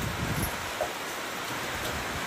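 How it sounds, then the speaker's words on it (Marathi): Heavy rain falling steadily outdoors near a roadside snack stall, a dense, even hiss that fills the whole clip without pause. "आता पाऊस आहे ना, जोरात आलाय मस्त."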